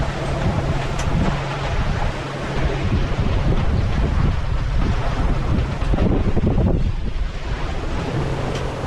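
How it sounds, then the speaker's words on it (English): Sailboat under sail on a fine day, with constant wind buffeting the microphone over the rush of waves and water against the hull, loud and steady throughout. "Now we're just enjoying a lovely day of sailing."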